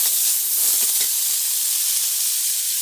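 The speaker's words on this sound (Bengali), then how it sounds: "আর সর্ষে ফোড়ন তোরটা ঢেলে দিচ্ছি" Chopped banana stem poured into a hot mustard-seed and dried-chilli tempering gives a loud, steady, close-up sizzling hiss of steam that holds unbroken throughout.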